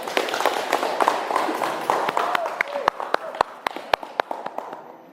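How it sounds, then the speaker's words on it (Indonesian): Applause for a student during a classroom teaching session: a scattered round of clapping with sharp individual claps over a busy murmur of room noise and voices, thinning toward the end. "Apresiasi, kasih tepuk tangan untuk Faizi ya."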